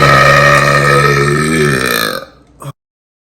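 A man lets out one long, loud, croaking burp up close, holding for over two seconds before trailing off with a short final gulp, then silence.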